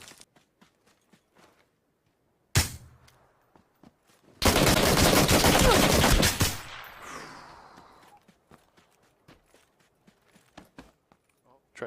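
Gunfire in the video game PUBG: a sharp single shot, then a loud sustained burst of automatic fire lasting about two seconds, with quiet footsteps and small clicks before and after it.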